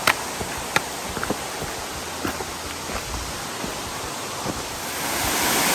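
Upper Little Stony Falls, a waterfall on Little Stony Creek in Jefferson National Forest, flowing at less than full volume, heard from its base as a steady, broad rushing roar with faint wind noise and a few scattered clicks.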